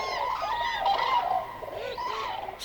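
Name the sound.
cranes calling over a marsh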